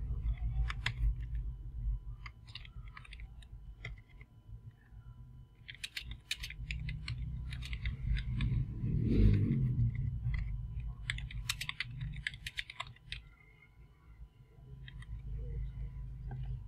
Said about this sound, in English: Then you need to type your email address, username and password.